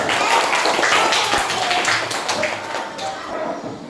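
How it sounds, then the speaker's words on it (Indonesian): Schoolchildren and teacher applauding together at the end of a primary school language lesson, a brisk continuous clatter of clapping with voices mixed in, tapering off slightly toward the end. "Tepuk tangan untuk kita semua."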